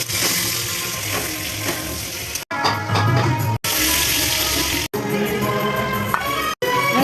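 Potatoes frying with salt and turmeric in a pan, a loud, dense, continuous sizzle heard close up, broken into several chunks by abrupt cuts.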